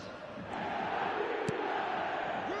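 Stadium crowd in the eFootball video game, a steady roar of many voices that swells slightly and then holds, with faint chanting mixed in.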